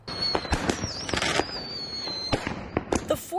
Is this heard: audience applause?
no